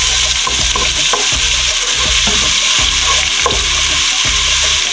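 Crushed garlic and ginger sizzling loudly in a cup of hot oil for a tempering for sarson ka saag, a dense continuous crackle and hiss with stirring scrapes, close and without talk.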